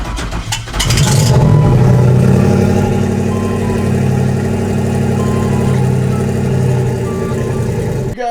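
An LS-swapped new edge Mustang with a big turbo starts, then holds a loud, steady idle close by for several seconds with a slightly uneven, lumpy rumble before it cuts off at the end.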